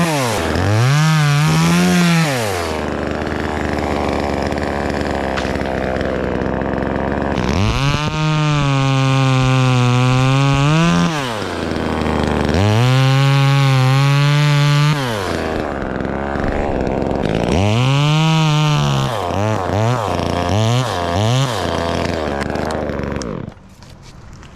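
A $135 chainsaw cuts wood, its engine revving loudly up and down in four or five long sustained bursts with brief idling dips between, close and alone.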